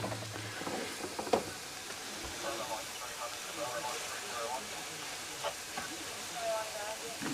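Butter and food sizzling in a pan, a steady frying hiss that goes on throughout with a voice talking over it.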